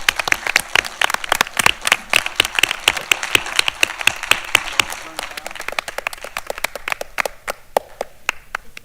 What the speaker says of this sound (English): let's join again in a very well-deserved round of applause to all of our